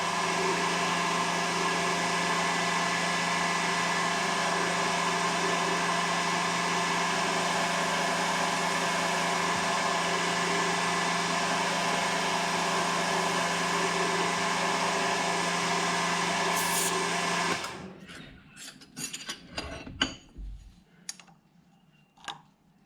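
Metal lathe turning a shoulder on stock for 3-inch machinist clamps, fed by hand wheel: a steady, loud mechanical hum with a whining tone runs for most of the clip, then cuts off, leaving scattered clicks and clunks.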